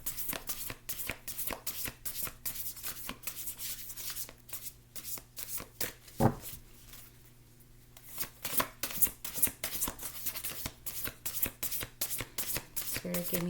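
Tarot cards are shuffled close up in quick, rhythmic riffling bursts with a brief pause midway, while a voice speaks softly in the background.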